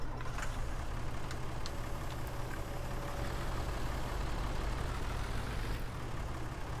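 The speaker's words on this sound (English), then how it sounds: "The 95 horsepower tractor here." A low-powered 95 horsepower tractor in the Farming Simulator 19 video game idles with a steady, droning low engine rumble, constant and fairly loud, with a few faint clicks over it.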